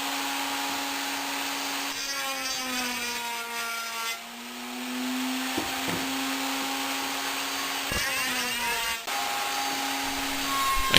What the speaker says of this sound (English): I then use a quarter round router bit to round the corners of the box nicely.